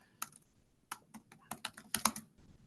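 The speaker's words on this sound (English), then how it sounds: "Always have trouble typing, of course, when folks are watching." Keys on a computer keyboard tapped in short uneven bursts of clicks, close and fairly quiet, with brief pauses between strokes and no voices.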